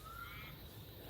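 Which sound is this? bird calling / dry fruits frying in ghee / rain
bird calling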